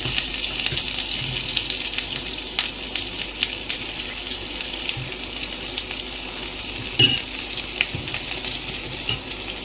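Whole cardamom pods, cloves and a little cinnamon frying in a pan, a continuous steady sizzle with light stirring scrapes and one brief louder clatter partway through.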